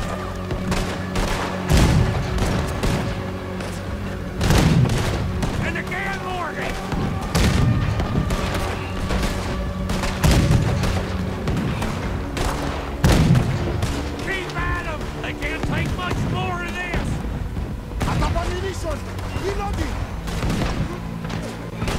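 A cannon fires repeatedly at a boat on the water in Red Dead Redemption 2, heavy booms every few seconds with rattling gunfire, splashes and shouting voices in between.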